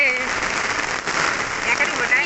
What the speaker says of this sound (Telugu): వాన పడుతుంది, గాలి వస్తుంది.